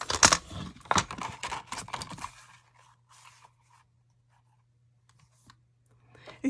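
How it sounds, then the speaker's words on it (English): A paper trimmer slices sheets of craft paper, giving a quick run of crisp clicks and crunches close by for about two seconds, then a low steady hum with a few faint ticks. "The first thing we're going to do is use our paper trimmer and cut our paper to 6 3/4 by 5 3/4."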